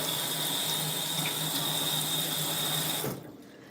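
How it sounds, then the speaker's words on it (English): Tap water runs steadily from a kitchen faucet as fingers are rinsed under the stream while cooking a vegan stir fry, a close continuous splash that cuts off abruptly near the end. "Rinse my baby fingers again."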